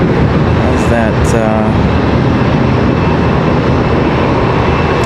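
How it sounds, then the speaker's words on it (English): An Embraer ERJ 145 regional jet departs Charlotte Douglas International Airport with a loud, broad, continuous engine roar that fills the whole stretch, and a faint voice briefly comes through near the start. "ERJ 145 gets out of here"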